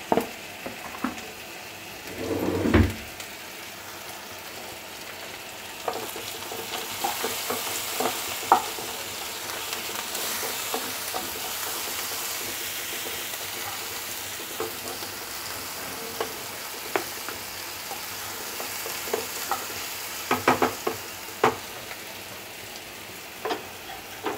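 Sliced onions with a pinch of turmeric sizzle gently in a pan, a soft continuous frying hiss punctuated by occasional sharp clanks and scrapes of stirring, no talking.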